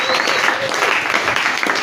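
A church congregation applauds and cheers during a French-language sermon, a steady, dense wash of clapping that fills the space without a break.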